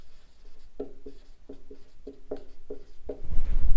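Chalk or marker writing on a board during a class 12 maths lesson on relations, a series of short, rhythmic scratchy strokes in tight clusters, close and fairly clear, ending in a louder rustle.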